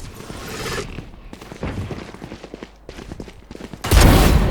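Bursts of rapid gunfire from the video game Valorant crackle in quick rhythmic runs, broken by short gaps, ending in a louder, denser volley.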